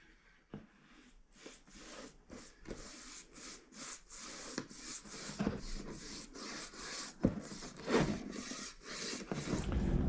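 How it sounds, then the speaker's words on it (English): Polyurethane is brushed onto wooden boards cut at 45-degree angles, making soft, rhythmic rubbing strokes that repeat steadily and sit close and fairly quiet. "We've cut these boards all at a 45-degree angle. I'm now going to polyurethane them."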